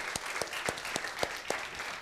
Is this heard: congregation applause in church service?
yes